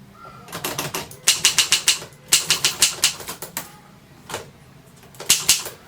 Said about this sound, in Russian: При печати литерная колодка ударяет по бумаге через особую красящую ленту.